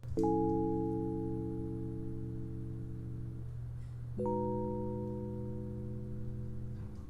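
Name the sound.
electric piano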